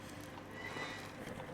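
A horse in the video game Medieval Dynasty neighs and its hooves clip-clop, a moderately loud, continuous stretch of game audio without talk.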